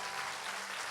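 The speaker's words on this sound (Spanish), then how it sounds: "Dale un aplauso a Él." A church congregation applauds in a brief, even burst of many hands clapping, fairly faint and heard without any talk.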